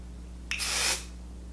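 A single short hiss of an aerosol setting powder spray can sprays toward a face for about half a second, close by, over a faint steady hum.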